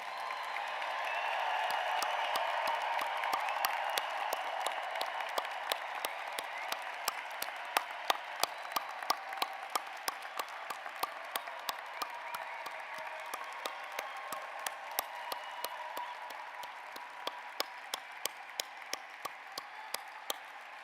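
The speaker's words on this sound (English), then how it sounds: "Let us join in tribute with one more hearty round of applause" Commencement audience at a veterinary school graduation giving a long, hearty round of applause, steady crowd clapping with sharp individual claps standing out, moderately distant and continuing throughout.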